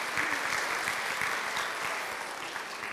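A conference audience breaks into applause, a dense, fairly loud wash of many hands clapping that holds steady and eases slightly toward the end, with no talking over it.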